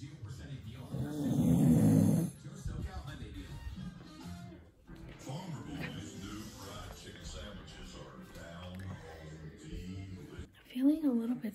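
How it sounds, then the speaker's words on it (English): A man snores loudly for a couple of seconds, one deep rasping breath up close, followed by someone talking quietly at home. "He's snoring."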